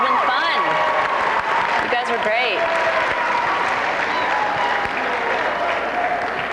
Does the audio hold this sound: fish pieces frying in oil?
no